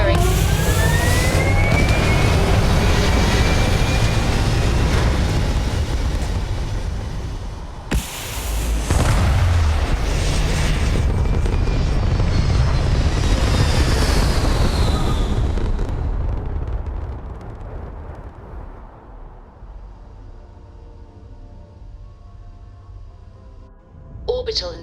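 Spaceship thrusters roaring in the game Starfield: a loud, broad rumbling blast with a sharp surge partway through, then a long fade to a quiet hum, with a voice speaking over it.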